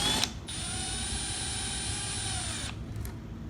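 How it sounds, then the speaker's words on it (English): A power driver screwing an electrical caddy box into place: a steady mechanical whir running for about two seconds after a short start, then a brief tail with low background noise. "You're going to screw it in place."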